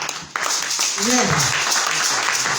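Church congregation applauding and cheering for Ruth: a dense, steady burst of clapping that starts abruptly and holds for a couple of seconds, with a voice rising over it.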